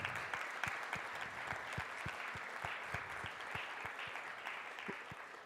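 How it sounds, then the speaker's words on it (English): A festival audience at an arena stage applauds the winning team of a tech competition, steady clapping with distinct sharp claps standing out, heard from a moderate distance. "Applause for Entity!"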